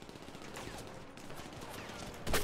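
Gunfire in GTA 5 during a gun game mode match, a steady wash of rapid shots and fusillade noise with a louder burst at the end, no talk over it.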